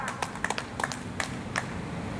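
Scattered, uneven claps from a political rally crowd for an activist orator, a few sharp hand claps spread thinly over a couple of seconds against a low background murmur.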